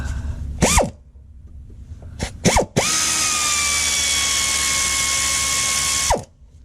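An air ratchet works on the transmission pan bolts of a Ram 1500 pickup, giving a short burst, then two quick bursts, then one long, steady, loud whirring run of about three seconds before it winds down.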